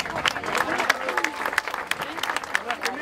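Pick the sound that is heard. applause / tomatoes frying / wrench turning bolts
applause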